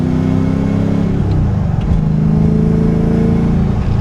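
An LS-swapped, modified Nissan 300ZX with T-tops sends out a loud, steady V8 rumble with rising and falling revs, heard close up and alone, with no voices.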